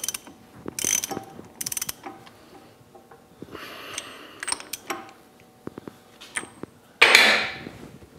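Ratchet wrench clicking in repeated bursts as it tightens an axle nut during a brake caliper job on an electric car conversion, with pawl clicks near and fairly loud, pauses between strokes, and a louder burst near the end.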